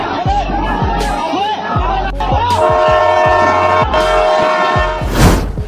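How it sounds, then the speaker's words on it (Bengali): A train passes along railway tracks with a heavy, steady rumble and rhythmic wheel clatter. A sustained horn-like tone rises midway, and people's voices and chatter sound underneath. "ট্রেনটি সেখান দিয়ে চলে যায়।"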